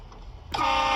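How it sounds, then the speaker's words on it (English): A train horn fired as a prank blares suddenly and loudly close by, a single sustained blast after a short quiet lead-in. "Every time I see these girls react of a train horn, it's so funny."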